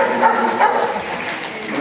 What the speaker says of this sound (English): hear the dog barking at him the whole time